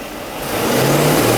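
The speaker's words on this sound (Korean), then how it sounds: "시동 한번 걸어보세요" A Mercedes-Benz S500 engine rises in pitch as it is revved, a steady close mechanical drone building over a second and a half.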